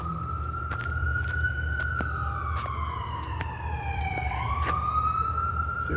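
A rescue squad ambulance siren wails on a night street in downtown Troy, New York, its tone sliding slowly up and down as it passes, with a few sharp horn blasts over a low traffic rumble.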